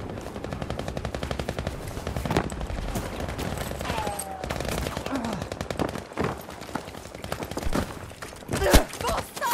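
Rapid automatic gunfire in Battlefield V rattles in dense bursts with scattered single shots, loud and close, over game background noise.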